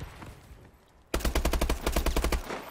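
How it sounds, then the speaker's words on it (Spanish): Gunfire from Call of Duty Advanced Warfare online multiplayer on PS4 bursts in after a quiet second, a rapid automatic string of loud sharp shots in quick regular rhythm, close and dominant. "Escucho tiros y disparos por todo lado."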